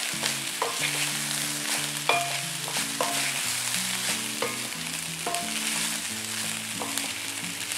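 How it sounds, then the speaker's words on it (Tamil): Peri peri vegetable fried rice is stir-fried over a raised flame, a loud, continuous sizzle broken by repeated spatula scrapes and knocks against the pan, with an underlying background melody and no talking. "இப்போ ஃப்ளேமை இன்க்ரீஸ் பண்ணிவிட்டு எல்லாத்தையும் மிக்ஸ் பண்ண போகிறேன்."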